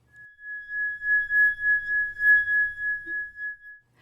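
A single sustained chime tone rings steadily for nearly four seconds, clear and alone, used as a section marker between parts of a spoken story reading.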